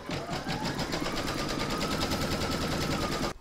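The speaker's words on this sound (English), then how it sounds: "pop your hoop into your machine and stitch round number 1" An embroidery machine stitches a placement outline for vinyl on a hooped project, a fast, steady mechanical rattle of needle strokes running close and loud until it stops abruptly.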